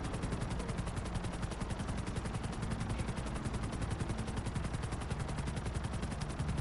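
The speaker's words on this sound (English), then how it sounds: "Todd, stay clear of that dude in the helicopter. He might kill us" A helicopter in a video game keeps up a dense, steady rotor chop with rapid rhythmic beating, heard continuously and moderately loud without talking.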